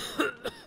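An infected character in the survival video game DayZ coughs twice in quick succession, short and fairly close.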